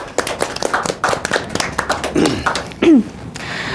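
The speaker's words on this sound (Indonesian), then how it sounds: "Kita beri aplaus dulu kepada para narasumber kita" Applause for panel speakers at an Indonesian shallot growers' association gathering: several seconds of scattered hand clapping from a modest crowd, uneven and tapering off.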